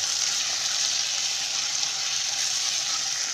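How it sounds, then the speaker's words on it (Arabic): Chicken pieces fry in hot oil over high heat, making a loud, steady, dense sizzle that goes on without a break and with no voices. "هقلب بقى الفراخ لحد ما يتغير لونها كده من كل جانب"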